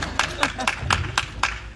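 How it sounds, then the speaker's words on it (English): An audience at a horse clinic claps in a steady, evenly spaced rhythm of about six beats. The claps stay moderately loud under a speaking voice. "We're going to give her a round of applause for putting up on her back."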